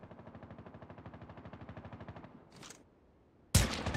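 Rapid automatic gunfire from Call of Duty Mobile, a steady stream of evenly spaced shots for over two seconds, then a lull and a sudden loud blast at the end.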